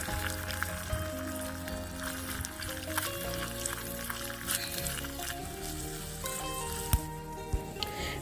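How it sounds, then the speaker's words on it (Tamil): Chopped onions sautéing in oil in a miniature pan for brinjal gravy, a steady close sizzle and crackle running throughout with a few sharper pops, no talking. "அடுத்து நம்ம பொடியாக நறுக்கி வச்சுருக்க வெங்காயத்தை இது கூட சேர்த்து வதக்கிடலாம்."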